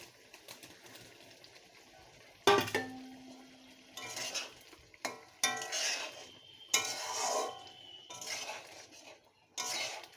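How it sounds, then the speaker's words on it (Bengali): A fried mixture of flour and soybean is tipped into a pan and stirred, giving several bursts of metallic scraping and clatter with soft sizzling in between, close by and without speech. "এখন দিয়ে দেব ময়দা আর সয়াবিনের যে মিশ্রণটা বানিয়ে আমি তেলে ভেজে রেখেছি, ওটা এখন আমি দিয়ে দেব।"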